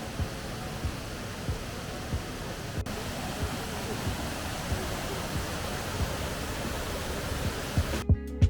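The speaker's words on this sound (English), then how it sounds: "as you arrive to this beautiful waterfall" A waterfall on a Welsh hiking trail rushes as a steady broadband roar, close and continuous, with faint thumps of movement or handling noise throughout and brief knocks at the end.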